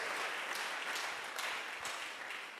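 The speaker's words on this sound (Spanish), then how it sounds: "¿Cuánto le damos un aplauso a Él en esta mañana?" A church congregation applauds during a Sunday morning sermon, steady dense clapping from many hands, fairly faint and distant, continuing without a break.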